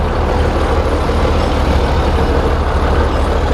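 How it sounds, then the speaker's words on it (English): The small motor on an old Morbark wood chipper revving, a loud, steady, rough engine roar that fills the whole clip without a break. "forgot all about revving up the little motor"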